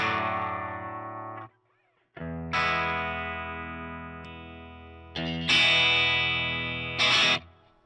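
Electric guitar with single coil pickups played through an op amp buffer, ringing sustained chords that decay, with a short gap and then brighter strummed chords, alone and close.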